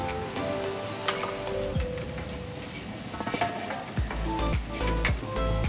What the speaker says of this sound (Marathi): चांगला मसाला एकदम मस्त परतून घ्यायचा.